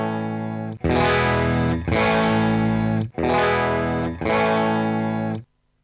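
Distorted electric guitar run through an amp into a Deluxe speaker cabinet, with effects, playing four sustained chords of roughly a second each, loud and close, with brief gaps between them and a clean stop.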